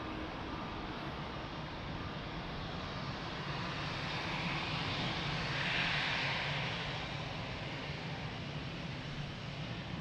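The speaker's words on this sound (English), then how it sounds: "So now that's a proper 330 landing." An Airbus A330 landing at Lisbon Airport, a loud continuous engine roar filling the scene and swelling slightly toward the middle before holding steady, with no voices.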